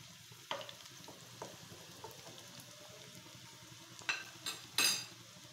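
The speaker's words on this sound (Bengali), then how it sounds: "এখন এটা খুব আস্তে আস্তে চুলার জালটা চলুক, তাহলে ভিতর থেকে খুব সুন্দর করে ভাজা হতে থাকবে।" Food fries slowly in a pan over a low flame, a faint, steady sizzle with scattered small pops and light clinks of utensils, a few sharper crackles near the end.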